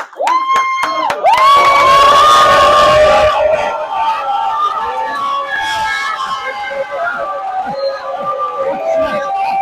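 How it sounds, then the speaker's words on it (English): A crowd at an annuity training event rises to its feet, cheering and whooping loudly, with shouts and whistles in a dense, sustained roar that stays strong and gradually thins. "please stand up and make the noise"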